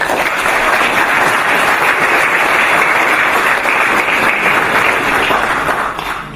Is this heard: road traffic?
no